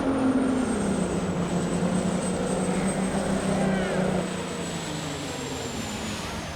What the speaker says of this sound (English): you can really hear that engine pull down